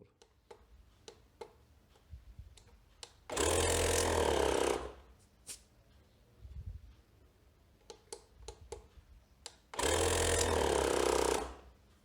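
A tyre inflator air compressor runs in two loud, steady bursts of about a second and a half each, separated by quiet stretches holding sharp ticking clicks.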